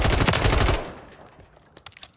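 Rapid automatic gunfire from a weapon in the video game Warzone: a loud, dense burst of shots that cuts off abruptly and rings out, followed by a few scattered distant shots.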